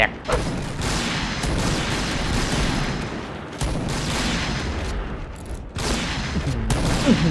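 Gunfire in a sniper shooting video game, with a few loud sharp shots and booming reports cutting through a constant dense game soundscape of rumble and mechanical noise.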